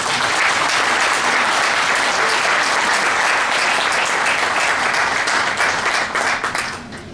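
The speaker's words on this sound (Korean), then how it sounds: "다시 한번 뜨거운 박수" Warm applause from a church congregation at a Korean pastors' lecture event fills the room, steady dense clapping for several seconds before tapering slightly at the end.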